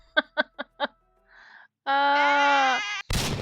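A few short, rhythmic cartoonish bleeps lead into a long, wavering, nasal bleat from a sheep in The Sims 4 video game, then a sudden burst of noise as the sheep explodes cuts it off.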